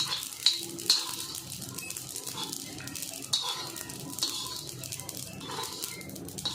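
Poppy seeds dry-roasting in a pan with no oil, a soft continuous sizzle and crackle at moderate level, with a few sharper ticks and scrapes over the roasting.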